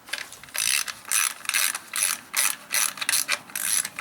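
A 3/8 ratchet removes a carburetor bolt on a 17.5hp Briggs & Stratton Intek engine, giving close, crisp bursts of clicking in a steady back-and-forth rhythm, about a dozen strokes with short pauses between.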